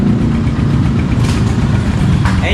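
Honda TMX 125 motorcycle engine idling close by, a steady low rumble with even, slightly uneven pulses and no revving or talk.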